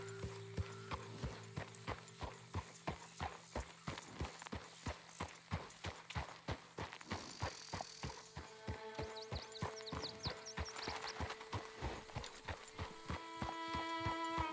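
A horse's hooves clip-clop at a steady, even pace in the video game Red Dead Redemption 2, with tonal in-game hum and music layered beneath and a brief whinny-like sound midway.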